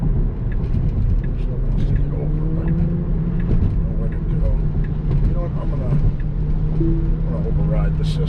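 Steady road traffic and engine hum from inside a Tesla driving in congested traffic, a continuous low drone with faint passing vehicles, while a person talks over it throughout.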